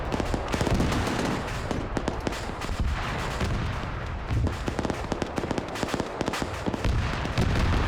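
Autocannon in a military video game firing rapid, dense bursts of loud cracking shots, a nearly continuous clatter of gunfire with barely any pause.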